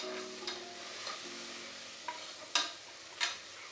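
Tomatoes cooking in a pan are turned with a utensil, producing a faint sizzle and a few soft scrapes, followed by two sharper knocks near the end.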